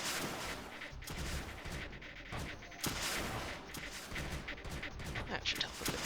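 Weapons fire steadily in the Creeper World strategy game as a dense, continuous barrage of small blasts and crackles, with a few sharper bursts, heard at a moderate distance beneath the game's background.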